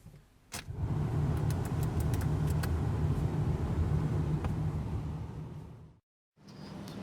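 A 1996 Dodge Stealth R/T twin-turbo cranks briefly and catches, then settles into a steady, close idle rumble for several seconds before cutting out abruptly.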